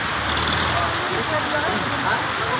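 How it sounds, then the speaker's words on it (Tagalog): Steady rain pours down, a dense, even hiss of drops hitting surfaces nearby, continuous throughout. "medyo ulan"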